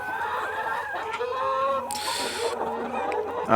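Hens on a poultry farm cluck softly and intermittently nearby at night, a quiet farmyard murmur with a short burst of higher noise partway through.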